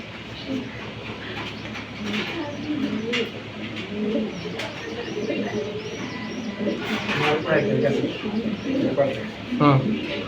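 Racing pigeons coo and flutter at a Bangladeshi pigeon seller's loft, their soft calls scattered throughout amid a busy background hum and nearby people talking.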